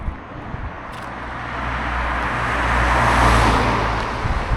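A car approaches and drives past on a road, its tire and engine noise swelling to a peak and then fading as it moves away, heard alone without talk.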